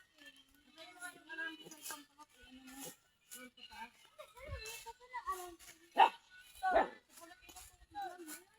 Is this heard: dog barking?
yes